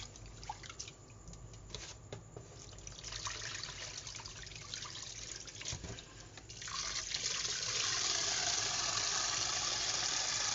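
Sticky rice is rinsed with water in a kitchen, first with soft trickles and splashes, then a louder, steady rush of running water that continues to the end.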